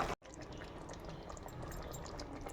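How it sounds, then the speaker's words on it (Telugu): Water is poured lightly into a chicken masala curry with budmakaya in a pot, a faint, steady splashing trickle after a brief cut, continuing without talk. "లైట్గా వాటర్ పోసుకోవాలి"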